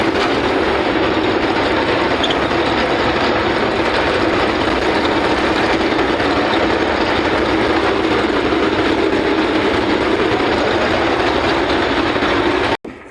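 Continuous loud mechanical roar of a Niva SK-5M1 combine harvester threshing soybeans, a dense steady rumble and clatter that cuts off abruptly at the end.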